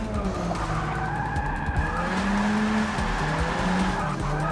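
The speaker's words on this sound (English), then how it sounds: "just trying to drift every turn now" Race car drifting through a corner in the Forza 6 racing game, with a continuous loud tire squeal and skid over a steady engine drone that hold for the whole stretch.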